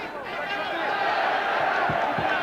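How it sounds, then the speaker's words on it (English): A sellout boxing crowd in France roars steadily during a 1995 McCallum vs Tiozzo bout, a loud, dense wall of cheering that swells slightly toward the end, with a few low thumps near the close. "Tiozzo being inspired by this sellout crowd in France."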